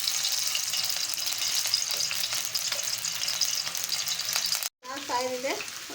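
Hot oil sizzling steadily in a pan while masala for a potato curry is started, a loud continuous frying hiss that cuts out briefly near the end before a voice speaks over the renewed sizzle.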